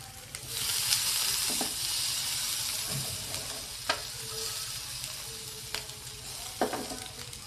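Homemade burger patties sizzle in a frying pan with a loud, steady hiss that eases slightly over time, broken by occasional scrapes and clicks of a spatula nearby.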